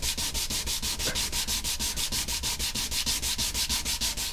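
Sanding an antique oak dining table, a steady rhythmic scrubbing with quick regular back-and-forth strokes at close range and no voices.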